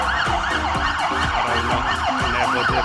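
Police car siren on a Melbourne street, wailing in rapid up-and-down sweeps, loud and close, with a rhythmic electronic pulsing beneath and constant traffic noise.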